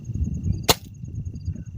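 A gas-ram air rifle fires once, giving a single short, sharp thud against a steady low background hum, with no talking.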